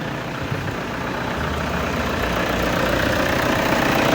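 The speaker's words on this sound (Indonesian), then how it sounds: "mesin sudah menyala normal" A diesel car engine idles with a steady, low rumble, continuous, close and even, with no voices over it.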